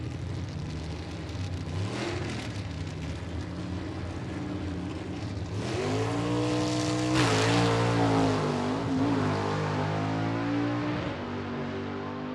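Gasser drag race car making a pass at a drag strip, a loud engine roaring steadily then surging higher through gear changes as it accelerates away, with no talk.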